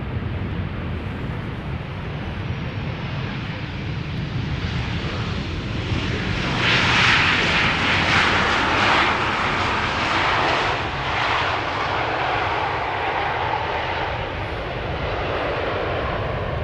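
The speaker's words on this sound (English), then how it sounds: "this is KLM flight 1598 arriving from Rome, 737-800" A KLM Boeing 737-800 arrives at Schiphol Airport on a flight from Rome. Its jet engines give a steady, broad roar that swells to its loudest midway, then holds at a strong, windy rumble, with no voices.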